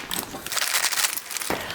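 Scissors cutting open a decade-old Mylar emergency food pouch, a brief close crinkling rustle of stiff foil plastic with a sharp snip near the end.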